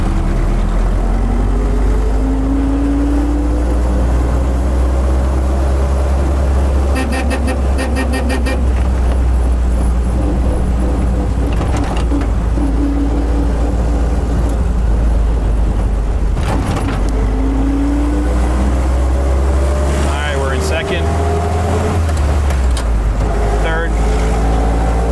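A 1942 Jeep Willys on narrow 6-inch tires drives steadily through a sand pit, its engine droning continuously and close up with shifting pitch, while a voice talks intermittently over it.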